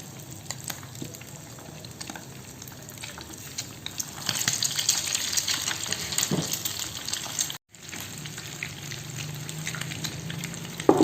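Continuous hiss and crackle of tofu stuffed with tuna and beef meatball mix, egg-coated, sizzling in hot oil, nearby and steady, briefly cut off then resuming slightly louder.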